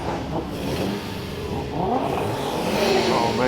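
At a two-step competition car show, a car engine revs hard with crackling, stuttering launch-control pops, loud and sustained, amid crowd noise and faint voices.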